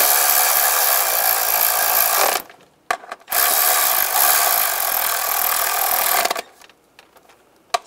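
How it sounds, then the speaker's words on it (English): Bolts on the MAP sensor of a Chevrolet Tahoe (2000–2006) being tightened with a ratchet in two long continuous runs of rapid clicking, close and loud, separated by brief pauses and ending with a few faint knocks. "Now tighten the bolts down, just snug that back one down"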